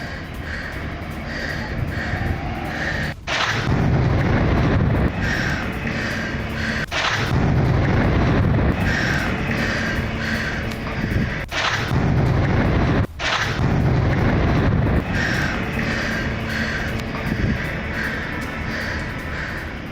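Explosions from strikes in southern Beirut, Lebanon, come as several sharp, loud booms spaced a few seconds apart over a constant heavy rumble.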